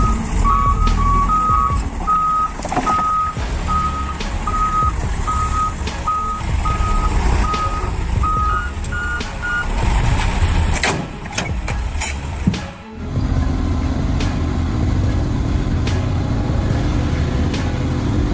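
A heavy dump truck engine rumbles loudly at a construction site while its high reversing beeper repeats in steady pulses, then the beeping stops near the end and the diesel drone carries on alone.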